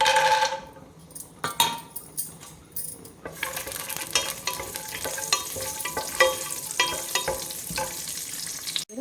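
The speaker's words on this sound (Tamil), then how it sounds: "இப்போ முந்திரி பருப்பு வறுத்துக்கிறேன்" Steady sizzling of cashews frying in hot ghee, with occasional scraping and clinks of a spoon stirring in a pan, close and continuous.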